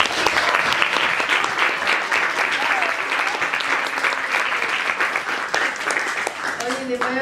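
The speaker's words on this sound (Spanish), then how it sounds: "un aplauso para ustedes" An audience claps steadily through a dialogue panel event honoring its organizers, with dense, sustained applause throughout and a few voices talking near the end.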